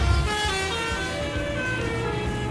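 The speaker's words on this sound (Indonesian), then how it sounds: "Padahal sudah ada suara klakson ya." Car horns toot amid dense road traffic, with steady engine rumble from cars, buses and trucks close by throughout, no voices.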